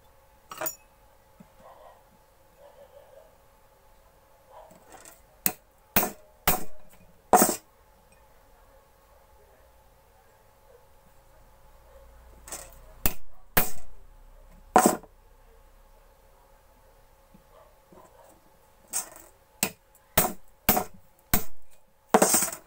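A hammer knocking rivets out of a mixer grinder motor to replace its bush: sharp, loud metallic strikes in uneven clusters of three to six, separated by quiet pauses.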